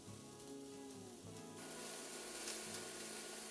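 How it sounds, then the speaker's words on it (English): Onions and scallions frying in leftover oil in a pan over medium-low heat, a steady close hiss of sizzling that grows a little denser partway through, with a faint tonal hum underneath and no talking. "We'll use the remaining oil and add in the onions and the scallions."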